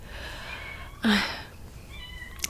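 A single short cat meow rises out of a quiet room, followed by faint background noise.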